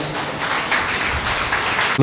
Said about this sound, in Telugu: అది గట్టిగా చప్పట్లు కొడదాం